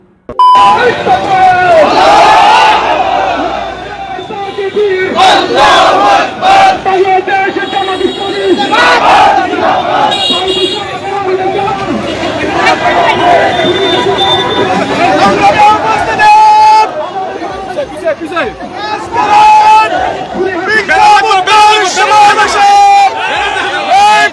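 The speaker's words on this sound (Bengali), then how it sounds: "দেলোয়ার হোসেন সাঈদীর জানাজা পড়তে না দেওয়ায় বিক্ষোভ মিছিল দিয়েছেন মুসল্লিরা" Muslim worshippers on a protest march over a denied funeral prayer for Delwar Hossain Sayeedi, a large crowd chanting slogans loudly and continuously in rhythmic bursts, with overlapping voices and babble throughout.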